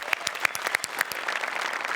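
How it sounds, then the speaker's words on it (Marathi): A studio audience at a Marathi comedy show applauds two performers, with crisp, closely packed hand claps forming a brisk, continuous burst. "जोरदार टाळ्या दोघांसाठी."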